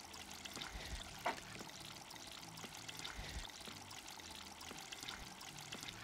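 Sifted flour, cornstarch and sugar pour into a bowl with a soft, close, continuous granular rustle and one small knock partway through.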